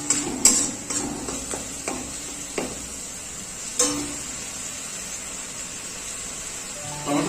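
Tomato paste stir-fried in a pan for chicken bharta, a soft steady sizzle punctuated by several sharp scrapes and taps of a spoon against the pan, fairly close and moderately quiet.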